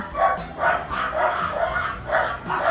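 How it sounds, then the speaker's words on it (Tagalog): A dog barks repeatedly in a steady rhythm, about five or six yips and woofs, fairly close and moderately loud. "ingay talaga ng aso"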